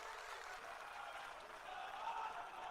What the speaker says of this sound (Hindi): उसके राष्ट्रीय अध्यक्ष आदरणीय नितिन नवीन जी का एक बार जोरदार ताली बजाकर स्वागत कीजिए साथियों।